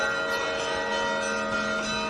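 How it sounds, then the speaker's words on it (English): Bells ring steadily on an outdoor film set, a sustained layered metallic tone with many overlapping partials, fairly loud and continuous throughout with no voices. "The bells are going off."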